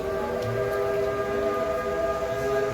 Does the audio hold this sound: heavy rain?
no